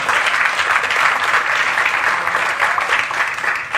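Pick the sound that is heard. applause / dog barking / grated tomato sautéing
applause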